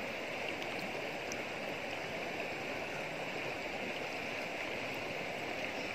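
A rock is washed in a stream, heard as a constant rushing, gurgling flow of water with no distinct splashes standing out, steady and moderately loud throughout.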